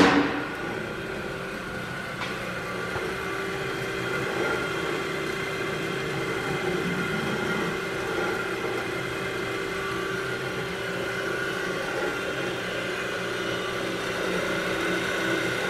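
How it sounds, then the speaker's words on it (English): A 6-inch Prater Industries rotary airlock on a 1-horsepower gear-reduced, chain-and-sprocket drive powered by 3-phase 230 volts hums steadily with a continuous mechanical whir and faint clatter, loud and unchanging with no voices. "We've got a 6-inch Prater Industries Rotary Airlock."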